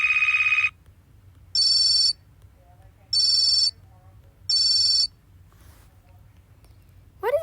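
A phone alert for a tornado warning sounds inside the Toca Boca game. A single long tone is followed by three evenly spaced high beeps, loud and synthetic, over a low hum, with a short rising chirp at the end.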